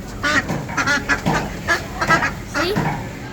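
Ducks at a UAE bird market quacking and honking in a loud, busy run of repeated calls, several birds close by with no speech.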